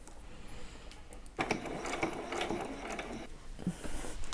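Sewing machine stitching a slippery, delicate dress fabric, a quiet rapid mechanical whir with ticking needle clicks in short bursts, near and alone.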